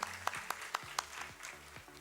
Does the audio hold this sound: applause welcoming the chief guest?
yes